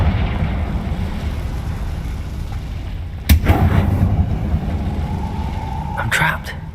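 Confringo blasting spell in the video game Hogwarts Legacy: a sharp explosive burst over steady ambient rumble, followed by a second crackling blast near the end.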